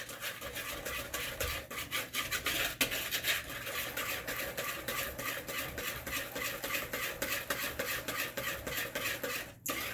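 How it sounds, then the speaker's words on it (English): Flour whisked into sugar and four eggs for a chocolate cake batter, a busy continuous rapid scraping and tapping of the whisk against the bowl, close and steady for several seconds before stopping abruptly. "We're gonna whisk that in."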